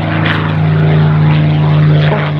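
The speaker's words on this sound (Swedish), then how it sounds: "Och det är Per Cederqvist som visar upp Spitfire." A Supermarine Spitfire Mk XVI propeller fighter passes during a flying display, a loud steady piston-engine drone with a strong low hum, near and continuous, with no voices.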